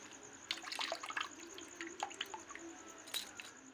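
Raw rice being rinsed in water for palm seed payesh, with soft splashing, trickling and dripping close by, irregular bursts of liquid movement throughout and no talking.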